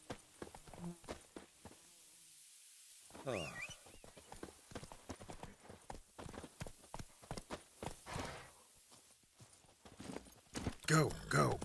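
Hoofbeats of a horse running in The Witcher Wild Hunt on PS5, rhythmic clip-clopping throughout, with someone talking over the game sounds.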